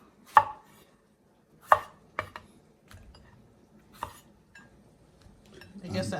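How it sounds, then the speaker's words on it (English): A knife chops sweet fresh tomatoes for a rose chicken and shrimp fettuccine, with a few sharp, close, irregular chops and quieter pauses between them, ending in a light clatter of kitchenware. "Cut these up."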